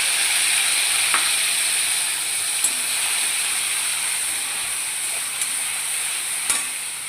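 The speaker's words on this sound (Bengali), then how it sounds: "তো আমি এবার এই মশলাটাকে পুরো ঢেলে দিলাম এখানে" Homemade spice mix with yogurt, chilli, turmeric, coriander and cumin sizzles steadily in a hot pan, a close, even frying hiss with a few faint clicks and no talk.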